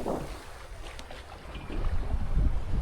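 A 27-foot sailboat running downwind wing and wing, with wind noise and water rushing past the hull, rising toward a louder surge near the end, no voices.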